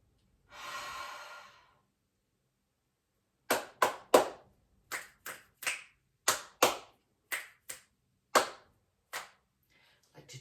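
After one long breathy exhale and a pause, a person produces a loose, uneven series of about a dozen sharp, close hand claps and finger snaps in an otherwise quiet room.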